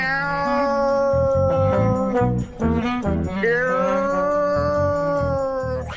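A cat in a Turkish drama dubbed into Uzbek gives long, loud, wavering meows and yowls that rise and bend in pitch, close by, with no speech over them.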